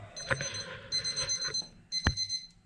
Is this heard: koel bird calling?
no